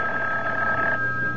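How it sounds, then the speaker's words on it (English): A telephone bell rings in an old CBS Radio Mystery Theater radio drama, giving one short, loud, clear ring with nothing else over it. "when I wasn't even thinking about the phone, it rang."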